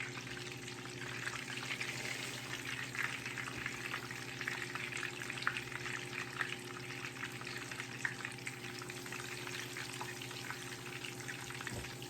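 Breaded pork chops fry in grease at 300 degrees in a shallow pan, giving a steady, dense crackling sizzle that stays even and close throughout with a low hum underneath.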